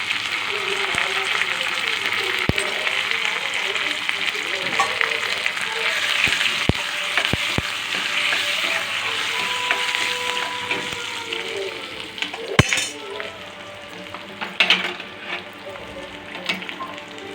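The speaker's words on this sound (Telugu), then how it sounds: "పప్పులో పోపు చేసుకోవాలి" Spices with curry leaves and turmeric sizzle in oil as tempering for tomato dal, a steady crackling fry broken by a few sharp clicks and clatters, with a voice talking over parts of it.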